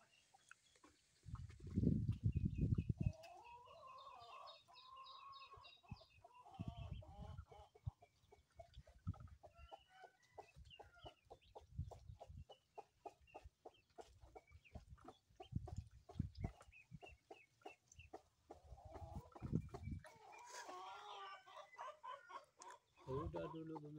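Ducks in a coop quack and chatter up close, with busy overlapping calls and a few loud bursts, while people talk faintly now and then.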